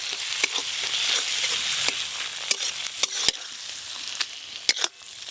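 Chopped tomato hits a crab curry gravy and fries with a bright, hissing sizzle, broken by a series of sharp utensil clacks and scrapes against the pan, loud and close.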